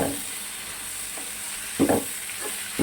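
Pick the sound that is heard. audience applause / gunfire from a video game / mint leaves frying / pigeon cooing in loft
mint leaves frying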